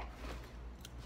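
A pair of scissors snips through a cereal box being trimmed to make a calendar, giving a short, quiet cutting sound with a brief crisp burst near the end of the snip.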